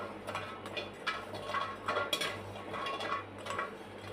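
Coconut roasting in a pan while being stirred for a brain-power laddu, giving a steady close-up sizzle with soft scraping and light metallic clinks of a utensil against the pan throughout.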